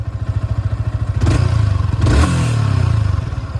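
A Yamaha R15 v3 BS6 motorcycle, heard up close, settles into a pulsing idle and then blips its throttle twice in quick revs, each one swelling and dropping back into the steady exhaust beat.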